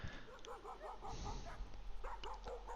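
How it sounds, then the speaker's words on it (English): Dogs barking and yipping in the horror game Layers of Fear VR, a rapid run of repeated barks at mid distance over a steady low hum, with a few sharper yelps near the end. "The dogs are getting louder."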